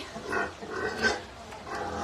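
A pig grunting a few times close by, low rough snorts in short bursts with no talking.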